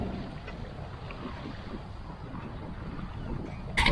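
Steady wind rushing past a sailboat under sail on a calm morning in the Salish Sea, a continuous low broadband roar with a sharper buffet near the end.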